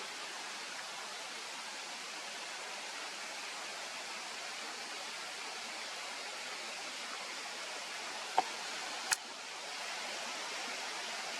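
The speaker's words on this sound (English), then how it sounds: "show a little moment here of babbling brook and trees and rocks and stuff" A babbling brook runs among trees and rocks in a forest near Echo Lake, a steady broadband rush of flowing water throughout with a couple of faint clicks near the end.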